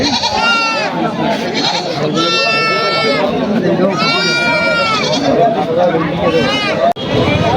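Goats bleat repeatedly in loud, wavering cries at the Hatibandha livestock market for sacrificial animals, over a dense babble of crowd chatter and close voices.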